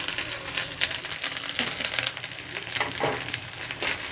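Ground cumin, coriander and chilli powder sizzling in hot oil in a pan for a Bombay duck (lotte) fish curry, a steady crackling fry with bright spitting bursts throughout, close and fairly loud, with no talking.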